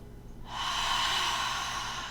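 A single slow, steady inhale through the nose during a Tibetan breathing practice, soft and close, rising after a quiet start and holding to the end.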